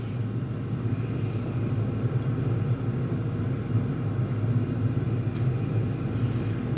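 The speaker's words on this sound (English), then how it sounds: "I definitely hear flame inside" A cheap Amazon all-in-one diesel heater fires up, its flame and blower merging into a steady, loud, low roaring rumble that holds evenly throughout without a break.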